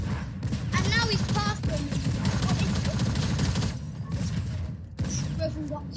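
Continuous rapid minigun fire in the Fortnite Creative gun game mode, a dense sustained rattle of shots running nearly the whole time, with brief chirpy game effects and overlapping talk at times.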